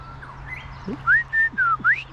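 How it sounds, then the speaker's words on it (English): Clear, loud whistled song of a grey shrike-thrush in spring wetlands: a series of rising and falling pure notes, several in quick succession, close by over a low steady hum. "The grey shrike thrush is really going off here."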